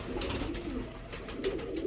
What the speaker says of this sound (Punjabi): ਇਹ ਹੀ ਸਰ ਕਬੂਤਰ ਜਿਨ੍ਹਾਂ ਦੇ ਬੱਚੇ ਵੀ ਔਰ ਆਪ ਵੀ ਜੇਠ 'ਚ ਉੱਡਦੇ ਆ ਕਬੂਤਰ